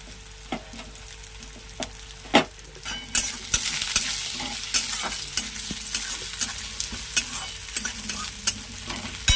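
A paste with chopped garlic fries in a pan, a steady crackling sizzle broken by sharp scrapes and taps of a stirring utensil, close and loud with no talking.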